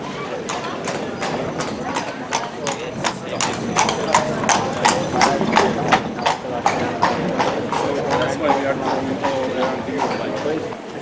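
Horses clip-clop along a street in Bruges. The hooves beat in a steady, brisk rhythm, close and clear, while people talk underneath.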